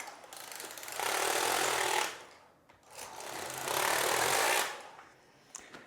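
The lock carriage of a Passap Duomatic 80 knitting machine, knitting a beginner hat, slides across the needle bed twice, each pass a loud rattling mechanical whir of about a second with quiet gaps between.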